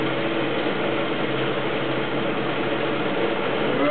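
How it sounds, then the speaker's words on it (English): Old sewing machine stitching in a steady, continuous mechanical whirr with a fine ratcheting texture, close and fairly loud, with no voices. "This is an old sewing machine"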